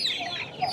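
Chickens cluck at a busy Friday open market in Kundarapalli, a short burst of close, lively clucking with faint background bustle.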